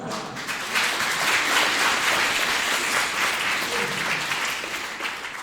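A concert audience in Daegu applauds a soprano's performance of a contemporary Korean art song, giving steady, dense clapping that holds at an even level and tapers slightly at the end.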